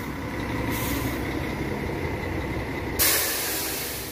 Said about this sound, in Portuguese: Chegando aqui um carro da Planalto, de São Paulo para Palmas